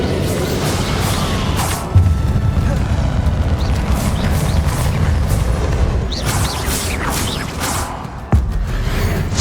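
Explosive Bombarda spells in Hogwarts Legacy boom and crash through a chaotic fight, with whooshes and sharp hits, including strong blasts near two and eight seconds, while a voice talks over them.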